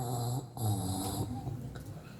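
A human voice imitates a death rattle, a harsh throaty snoring gurgle likened to a goat about to be slaughtered. It comes in two rasping pulses with a brief break between them, close and fairly loud.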